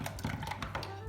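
Batter for a Turkish pan börek made with a single sheet of yufka being whisked by hand in a bowl, a quick series of close, light tapping knocks of the whisk against the side.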